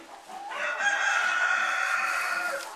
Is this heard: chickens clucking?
yes